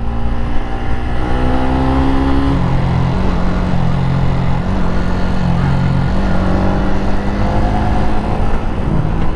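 A Honda Click version 3 scooter ridden on a road, engine droning steadily with rising and falling revs and wind rush close to the mic, alone without talking.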